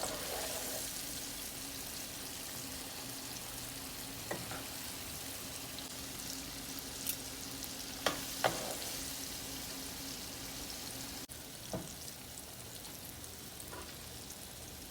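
Chicken pieces frying in a pan for sesame chicken, giving a steady close hiss of oil with a few louder pops and crackles scattered through, no voices.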